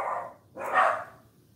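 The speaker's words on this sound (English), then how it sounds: "The dogs are barking." Dogs barking indoors at a residence, two separate bark bursts a moment apart, moderately close and clear with no talking over them.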